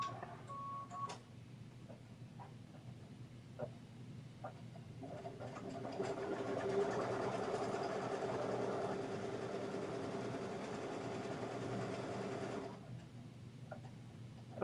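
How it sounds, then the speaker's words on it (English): An embroidery machine stitches out a placement line on fabric, a steady mechanical whir with rapid ticking that builds in the middle stretch and then eases off, heard alone at moderate volume. "here I am over at my machine and I am going to stitch out the placement stitch one more"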